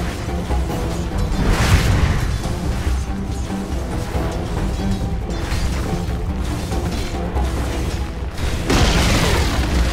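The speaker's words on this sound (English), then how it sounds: "Radiant's bottom tower has fallen." A tower collapsing in Dota 2 brings continuous heavy crashing and booming, dense and loud throughout, with a sharper burst of impacts near the end under steady game ambience.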